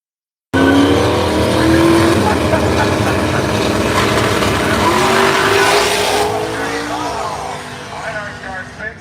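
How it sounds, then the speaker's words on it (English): A Pro Mod drag race car launches at Bradenton Motorsports Park, spinning its tires in a loud, close engine roar with squealing tires that fades slightly toward the end, with an announcer talking over it. "Spins the tires, Miniconzi's going to run for the hills and"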